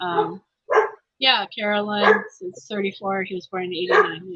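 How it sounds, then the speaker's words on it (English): A dog barks in short bursts behind a voice speaking on a phone call, the barks partly blended into the talk. "you can hear the dog barking"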